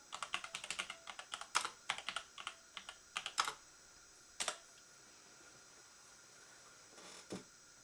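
Rapid, close keystrokes on a computer keyboard patter for about three seconds, then slow to a few scattered taps and isolated clicks with quiet gaps between.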